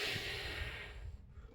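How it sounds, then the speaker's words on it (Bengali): Pursed-lip breathing exhale as a COPD exercise, a single long, steady, breathy outflow of air close to the microphone, fading toward the end. "তাহলে প্রথমে পার্সলি ব্রিদিং করে শ্বাস ছাড়বেন"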